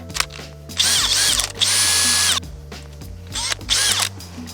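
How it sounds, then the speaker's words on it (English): A power drill with a new masonry bit whines in three loud bursts, grinding into a steep rock slab, with quieter mechanical rattling between them. "swapped it for the new masonry bit to drill through the rock"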